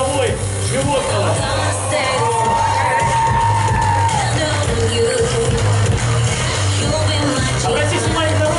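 A show audience cheers and shouts with scattered whoops and crowd noise, a lively, near, continuous din with voices rising over it and a repeating low thump underneath.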